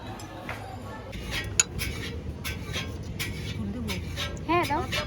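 Plates and cutlery clinking as several people arrange thalis for a Bengali baby shower ritual, scattered sharp clinks and clatters close by under steady chatter and talking.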